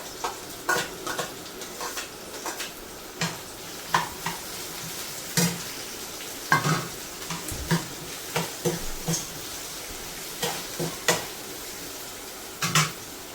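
Sliced onion sautéing in a little oil in a pan for dosa chutney: a soft, steady sizzle broken by scattered clicks and scrapes of stirring, fairly quiet and with no talking.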